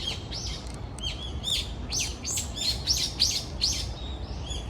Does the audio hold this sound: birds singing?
yes